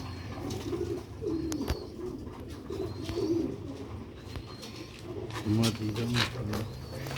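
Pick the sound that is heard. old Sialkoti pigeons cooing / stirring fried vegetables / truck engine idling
old Sialkoti pigeons cooing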